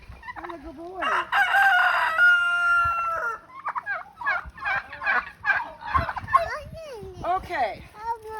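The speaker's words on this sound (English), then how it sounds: "These are Thanksgiving turkeys here." Turkeys gobble in rapid, warbling bursts, one call after another, fairly close, while voices murmur in the background.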